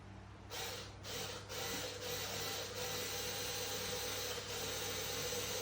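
A motor spins a mirror in a speed-of-light demonstration apparatus. It makes a continuous broadband whirring drone with a few soft rhythmic thumps, moderately loud and steady throughout.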